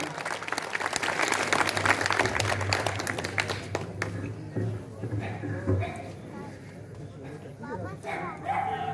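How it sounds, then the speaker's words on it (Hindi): Loud audience applause for poet Rajkumar Tiwari at a Ram Navami gathering in Brahmavali, dense clapping for about four seconds before thinning out under murmuring crowd noise and talk. "ऐसे भाई राजकुमार तिवारी जी के लिए जोरदार तालियां"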